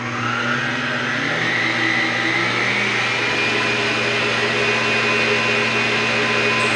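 Electric hand mixer whirring steadily at high speed as it beats margarine icing, a loud continuous motor drone with a rising whine that holds throughout.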